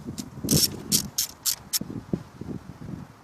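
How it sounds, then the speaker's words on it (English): A socket wrench ratchets off 14 mm side bolts on a 2002-2006 Lexus ES300. About six quick, sharp, close clicks come at an even pace, followed by softer low knocks and rattles. "I believe I used a 14mm socket to get these 2 side bolts off."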